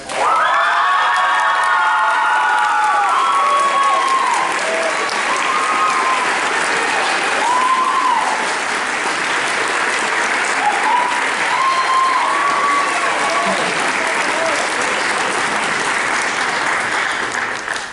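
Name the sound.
audience applause and cheering for award winner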